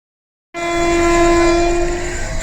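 The Manmad–Kacheguda Ajanta Express passes after a sudden onset, its horn blaring loud and sustained for about two seconds over the rumble of the moving train.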